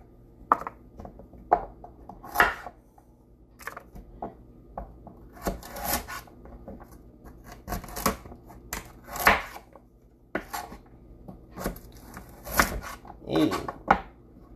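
A knife chops leftover bell peppers into small pieces on a cutting board, producing irregular close taps and scraping strokes spaced through the quiet kitchen, some in quick clusters.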